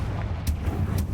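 A Confringo blasting spell explodes in Hogwarts Legacy, a video game: a short burst with a sharp crack near the middle and a second blast at the end, over a steady low rumble.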